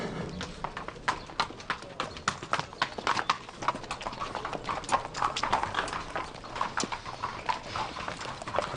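Horse hooves clip-clopping at a horse sale, a brisk irregular series of sharp hard knocks close by, fairly quiet, with no talk over them.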